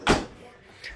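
A refrigerator's small door-in-door compartment opens with one sharp clunk, followed by a quiet hiss and a faint rattle at the end, heard close in a home kitchen.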